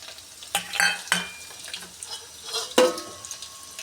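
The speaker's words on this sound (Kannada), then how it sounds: "ಒಗ್ಗರಣೆಗೆ ಒಂದು 4 ಎಸಳು ಬೆಳ್ಳುಳ್ಳಿ ಹಾಕೋತೀನಿ" Four garlic cloves dropped into hot oil for a tempering, with sizzling and sharp clinks of a utensil against the pan in several distinct bursts over a low, steady frying hiss.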